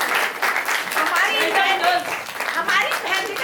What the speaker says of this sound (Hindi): एक बार जोरदार तालियां इन बहनों के लिए होनी चाहिए।